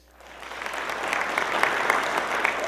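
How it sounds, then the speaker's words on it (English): Audience applause at a family juggling show swells quickly from quiet into a steady, moderately loud round of clapping. "Who thinks by show of applause that she'll be successful at juggling this?"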